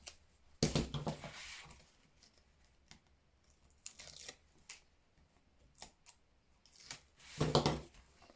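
Paper being cut for a handmade gift box with a window and handle, a few short scissor snips and paper rustles scattered between quiet pauses, close by.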